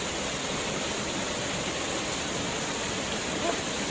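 A forest waterfall pours in a dense, unbroken rush of falling water, loud and near, steady for the whole stretch with no pauses.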